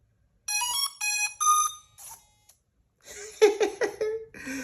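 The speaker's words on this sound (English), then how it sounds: "when you turn it on, it sings a song to you" A drone plays its startup jingle as it is switched on: several clear, bright electronic tones in a short melody, then a second warbling run of chirpy notes, close and loud against silence.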